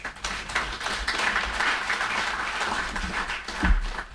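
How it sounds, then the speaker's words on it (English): An audience at an event about ending trafficking in Malawi claps for a man, a moderately loud, uneven round of applause with a few sharper individual claps standing out. "I think we should clap hands for this man."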